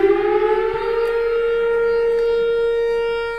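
A loud tornado siren wails in a steady, sustained tone with rich harmonics, holding strong throughout without voices over it.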